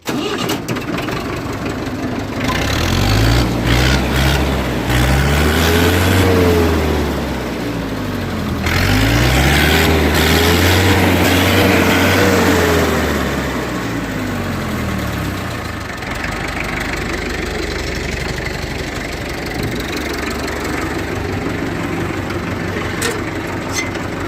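An old 1980 International 444 four-cylinder 60 hp tractor engine cranks and starts, chugging loudly with rising and falling labored revs, then settles into a steady rough idle.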